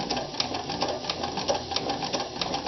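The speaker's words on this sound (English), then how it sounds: "You can really hear everything working in this machine." A Morse 4300 sewing machine stitching at steady speed, a close, continuous mechanical whir with rapid rhythmic needle clatter, heard alone.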